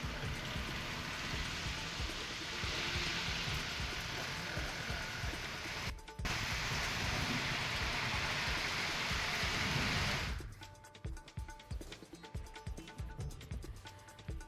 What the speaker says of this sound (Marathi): सोलापूरमधील मेघगर्जनेसह अवकाळी पावसानं जोरदार हजेरी लावली आहे